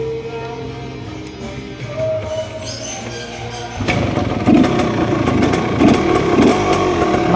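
A 1978 Yamaha DTJ 175 motorcycle engine idles at a low, uneven putter, then grows louder and rougher partway through with brief revs, heard up close with no talk.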